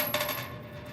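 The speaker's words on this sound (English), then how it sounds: "That sort of sounded like a coin as it was rolling" Metal washer dropped into a drop chamber, rolling around inside with a bright, ringing, coin-like metallic whir that shimmers steadily and stays fairly quiet, heard alone.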